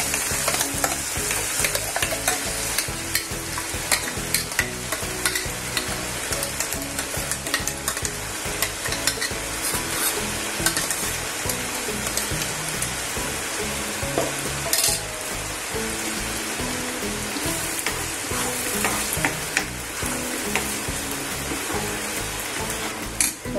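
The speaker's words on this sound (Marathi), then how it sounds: "चांगलं तेल सुटलंय. आता आपण हा मसाला घालू त्याच्यामध्ये." Masala fries in oil with cooked onion for Kolhapuri misal, a dense, continuous sizzle that stays loud and close throughout, broken by frequent stirring scrapes and clicks; no voices.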